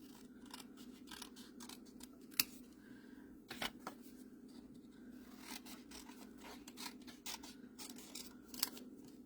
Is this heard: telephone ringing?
no